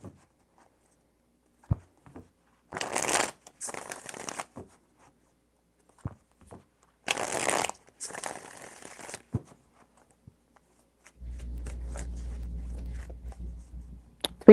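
Tarot cards shuffled in two bursts of quick riffling, close and fairly loud against a quiet room, followed by a low steady hum near the end.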